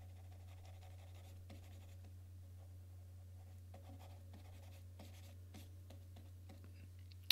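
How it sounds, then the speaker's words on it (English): A drawing's edges being erased, soft, faint scratchy rubbing strokes in a quiet room over a low steady hum, with no talk. "And let's erase the edges."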